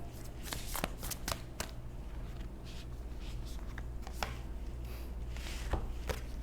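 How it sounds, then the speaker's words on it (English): Tarot cards are shuffled and pulled from the deck, giving soft papery riffles and a string of sharp flicks and snaps over a steady low background hum, close and fairly quiet. "I am going to pull another card here"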